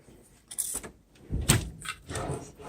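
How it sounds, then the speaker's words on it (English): Drawers of a Milwaukee tool chest with soft-close slides shut with a few muffled, cushioned thuds and short sliding rustles, spaced over a few seconds at close range, with no talking. "These are soft closed drawers."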